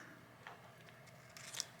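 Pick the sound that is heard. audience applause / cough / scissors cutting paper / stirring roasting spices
scissors cutting paper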